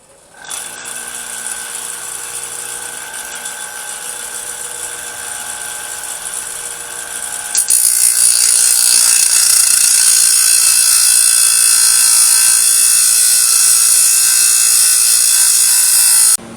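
Steady, loud abrasive whine of a power tool cutting the shape of a forged machete blade in a forge workshop, continuous and close, rising to a harsher, brighter grind halfway through with no talk.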